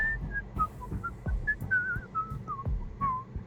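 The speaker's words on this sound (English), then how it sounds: "Why are you whistling?" A character in the video game Whispers of a Machine 2 whistles a slow, wavering tune of short sliding notes, close and clear over low thumping footsteps and a soft ambient hum, with no talk.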